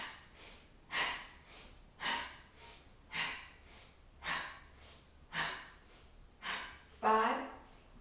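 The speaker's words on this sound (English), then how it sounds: "So we're breathing in through the nose." Yoga breathing drawn in through the nose, a repeated series of close, soft breaths in a slow steady rhythm, each inhale and exhale audible, with one sharper, rougher breath near the end.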